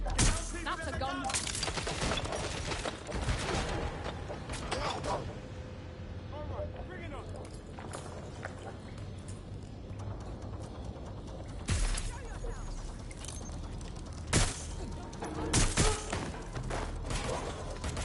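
Gunfire in the video game Watch Dogs Legion, with bursts of sharp shots and heavy blasts scattered through a dense, noisy scene, loud and close, several strong cracks near the end.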